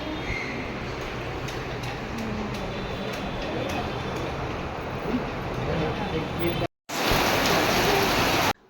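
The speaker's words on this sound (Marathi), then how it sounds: "अचानकच खूप मोठा पाऊस आला वाटलं नव्हतं पाऊस येईल एवढा मोठा" A sudden heavy downpour of rain makes a dense, continuous roar, with voices faintly underneath, then stops sharply after a short gap near the end.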